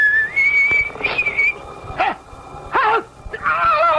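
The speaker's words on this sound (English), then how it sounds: "He's coming now, whistling in the dark." A person whistles a wavering tune in several short phrases, with a dog yipping and whimpering between the notes.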